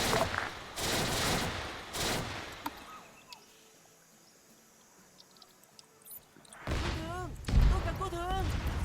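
Arma 3 gunfire in a Vietnam War operation, with rattling bursts of shots at the start and end around a quieter stretch in the middle, under several voices talking over radio.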